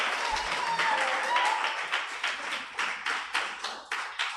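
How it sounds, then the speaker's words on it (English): A small audience at a press engagement claps for the Radical New Bar, scattered applause that thins into a handful of distinct, evenly spaced hand claps toward the end, with faint voices underneath. "Everybody clap for the Radical New Bar."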